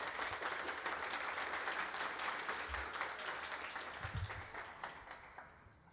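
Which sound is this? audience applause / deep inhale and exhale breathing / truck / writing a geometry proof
audience applause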